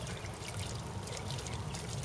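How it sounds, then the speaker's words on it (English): Water from a ram pump flowing at close to one gallon per minute pours onto a water wheel in Elgin, Texas, a soft, steady splashing trickle with no voices. "So that water that's coming out right there is coming from the ram pump, which is close to 1 gallon per minute."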